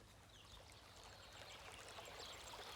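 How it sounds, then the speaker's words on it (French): Soft, steady rush of trickling water from a small waterfall in a forest, continuous and fairly quiet with no voices. "tu entends le bruit d'une petite cascade."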